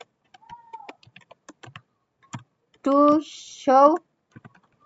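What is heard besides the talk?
typing on a computer keyboard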